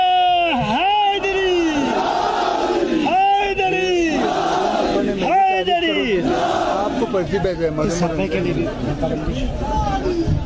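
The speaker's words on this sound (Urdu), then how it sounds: "کوئی ہے نعرہ حیدری لگوا دے" A large political rally crowd chants the Nara-e-Haidari slogan in loud, repeated unison bursts roughly every two to three seconds, mixed with whoops and general crowd noise that fills the whole stretch.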